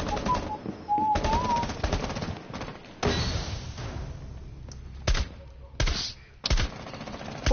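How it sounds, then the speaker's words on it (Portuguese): Gunfire in the video game Rainbow Six Siege: several sharp bursts and single shots at irregular intervals, loud and close, with game sounds and brief talk between them. "Três tiros no gajo, que não morria."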